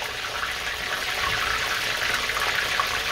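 Plantains fry in hot oil in a kitchen pan with a steady, dense sizzle and crackle, fairly close and unbroken.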